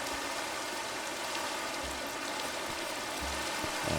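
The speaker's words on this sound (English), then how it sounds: "hopefully get rid of this rain" Rain falls steadily in the video game Minecraft as a constant, even hiss of drops, with no pause and no other prominent sound.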